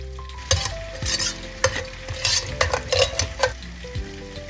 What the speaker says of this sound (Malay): kita masukkan cili api yang telah ditumbuk tadi ke dalam periuk dan kita keringkan airnya sebentar